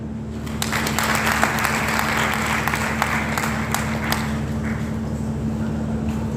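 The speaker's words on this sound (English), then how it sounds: "Now we clap for the Honorable Minister of Education" Audience clapping for the Minister of Education at an inaugural lecture in Nigeria, scattered and uneven hand claps over a steady low electrical hum, thinning out toward the end.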